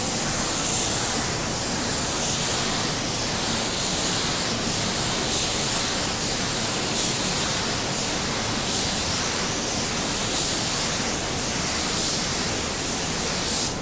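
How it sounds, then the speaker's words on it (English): Steady, continuous hiss of a spray gun laying clearcoat on a car bumper, even and unbroken from start to finish, close by with no voices. "So here we'll spray the bumper just like any other bumper."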